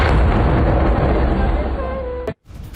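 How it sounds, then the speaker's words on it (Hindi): A loud, sustained roar from an Israeli air strike in southern Lebanon fills most of the recording, then cuts off abruptly near the end. "दक्षिणी लेबनान में विध्वंसक एयर स्ट्राइक"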